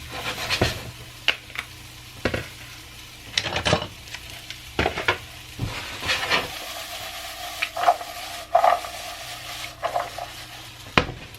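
Potatoes seasoned with garlic salt frying in a pan, a continuous sizzle broken by repeated scraping and clinking of a utensil against the pan as they are stirred, close and fairly loud.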